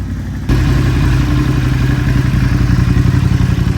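A Ducati Hypermotard 950 SP with a full Termi exhaust idles and is revved after warming up, a loud, steady engine roar that kicks in abruptly after half a second and holds with a rough, pulsing throb throughout.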